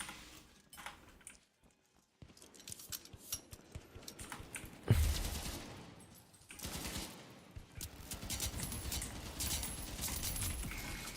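Rapid video game gunfire in a fight against a sniper, bursts of crackling shots and metallic clatter, loud and dense in the second half after a quiet gap, with faint voices underneath.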